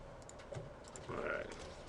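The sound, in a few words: typing a command on a computer keyboard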